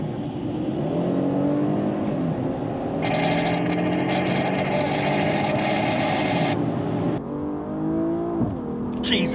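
A 2024 BMW M440i Gran Coupe launches down a quarter-mile drag strip, its engine roaring loud and close as it climbs through gears, with a high whine joining midway and a sharp shift near the end; a voice speaks faintly underneath.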